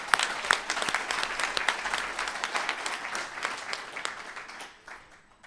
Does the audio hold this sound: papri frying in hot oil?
no